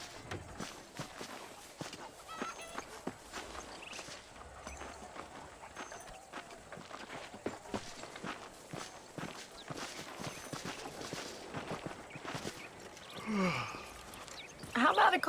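Quiet horse hooves clip-clop along at a steady walking pace in the video game Red Dead Redemption, faint and continuous, with a brief louder vocal sound near the end.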